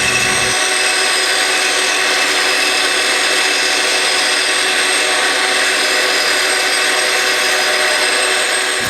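A power saw cuts a wood workpiece around a template beside it, running as a loud, continuous close-up whine and buzz with no talking.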